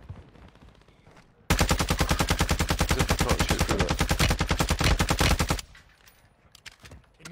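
Loud, sustained automatic gunfire in Call of Duty Warzone 2.0, a rapid steady stream of shots lasting about four seconds, with quieter game sounds before and after.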